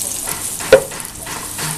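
Onion slices frying in about two tablespoons of oil in a pan, a loud, even sizzle with a sharp stirring scrape near the start, close by and without speech.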